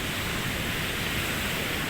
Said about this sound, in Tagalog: Parang 6 feet ang lalaki ng alon.